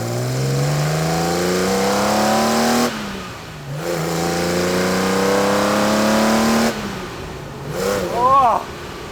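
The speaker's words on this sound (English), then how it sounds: "the iconic racing flat six engine sound is what this car makes" A Singer-reimagined Porsche 964 with a racing flat-six engine revs hard twice in long climbing pulls. A short sharp throttle blip follows. The engine is loud and close.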